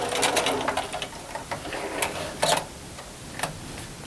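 A sewing machine back stitching, its needle chattering in short busy bursts separated by brief pauses, close and fairly quiet.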